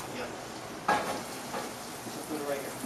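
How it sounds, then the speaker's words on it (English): A hot pan sizzles steadily as a chef flash-fries coho salmon at a cooking competition, with a brief clatter near the start cutting through the constant hiss. "we're soon going to be putting the coho salmon into this pan"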